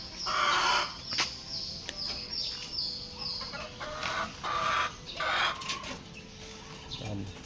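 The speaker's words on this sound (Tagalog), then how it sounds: "Ito yung mga sisiw natin" Chickens and young chicks kept penned at a small backyard poultry range cluck and peep in overlapping bursts, with occasional louder calls rising over a steady barnyard background.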